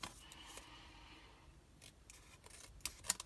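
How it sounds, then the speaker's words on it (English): Scissors cutting the end off a paper flower for a tropical-themed monochrome notecard, a few quiet snips close by, with the crispest cuts coming near the end and no one talking. "snip the end of that flower off and snip up there so it's straight"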